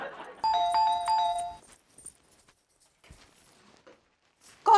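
Doorbell chiming inside a house, a clear multi-tone ding-dong ringing loudly for about a second at the start, followed by quiet shuffling and small knocks, and another brief loud sound at the end.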